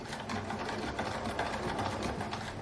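Sewing machine stitching close to a zipper on campervan bedding fabric, a fast steady mechanical whir with rapid needle ticks running continuously, close up and without speech.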